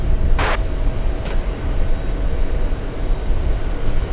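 An Airbus A321 airliner lands on runway 22 left, its jet engines a steady, broad roar that fills the whole stretch, with a short sharp burst of noise near the start.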